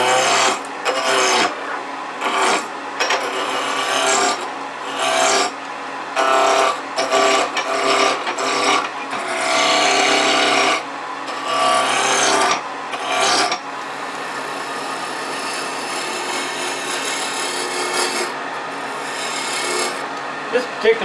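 Holly wood blank spinning on a lathe and roughed round with a turning tool, a steady rasping, scraping cut that comes in repeated bursts with short gaps, then a longer continuous stretch of cutting.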